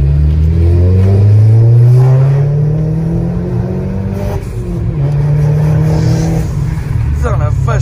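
Volkswagen Scirocco engine revving loudly up and down, the pitch climbing and falling in several surges close by, with people talking over it.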